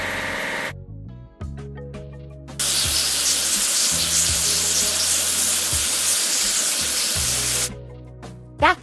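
A steady hiss of spraying water washes a covered truck in a kids' farm tractor puzzle game about growing strawberries. The spray runs loud for about five seconds over light game music, with short musical notes before and after.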